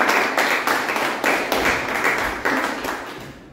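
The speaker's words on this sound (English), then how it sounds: "let's have a big round of applause for Toastmaster." A round of applause for the Toastmaster at a Toastmasters club meeting, a steady patter of clapping from a small room audience, alone for a few seconds with no talk over it.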